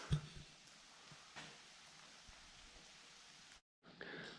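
Rain falling at an ancient megalithic stone site in Inner Mongolia, a faint, steady wash of drops with a couple of soft louder patters, briefly cutting out near the end.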